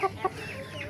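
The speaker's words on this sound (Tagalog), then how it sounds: "Dagan man may manok." Two short, close clucks from a chicken running loose near a house, the second following a quarter-second after the first, with a soft background hum and no speech.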